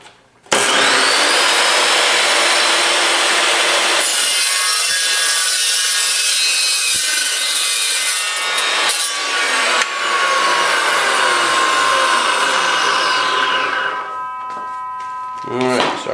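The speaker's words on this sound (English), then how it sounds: "I'm going to take a test cut on this one about as close to the end as I can" A power saw cuts through a wooden rectangle for a test cut near the end of the piece, a loud continuous whining grind lasting about fifteen seconds before spinning down.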